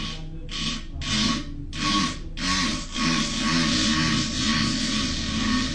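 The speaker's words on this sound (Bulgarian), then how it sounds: "Резачката, бате!" A saw cuts with several slow, rasping back-and-forth strokes that blur into a continuous grinding drone, fairly close and moderately loud, with no talk over it.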